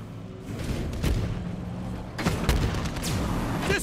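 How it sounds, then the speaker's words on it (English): Enemy gunfire in Borderlands 3 sounds as booming shots and bursts, several heavy blasts in irregular rhythm over a rumbling vehicle and battle din, loud and close. "They're shooting at us!"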